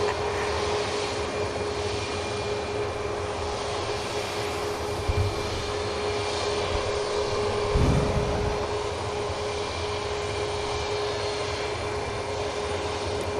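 Steady loud jet airliner engine roar at a busy airport with Ryanair and Jet2 jets, a continuous broadband rumble with a faint whine, and a brief low thump partway through, no voices.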